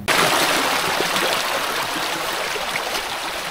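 Hill stream water rushes steadily over rocks along a winding jungle trail near Shilbuniya waterfall in Alikodom, Bandarban, a continuous broadband flow close by with no other sounds.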